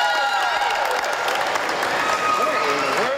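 A dense crowd in Puerto Rico after Hurricane Maria cheers and applauds nonstop to welcome utility linemen arriving to help, with steady clapping and excited voices filling the whole stretch.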